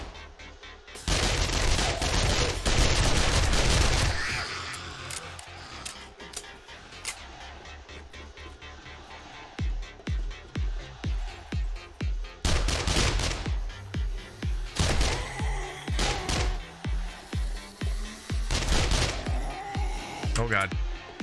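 Bursts of 9mm gunfire in the survival game 7 Days to Die: a loud sustained volley early, then a rapid series of sharp, evenly spaced single shots and more volleys later, close and dominant with little talk.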